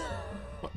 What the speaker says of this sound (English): Still coughing up green shit.